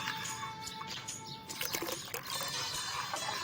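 Water pours steadily into a pumpkin and raw mango juice mixture being made in a kitchen. The trickling, splashing flow is fairly close and continuous, with a brief louder gush partway through.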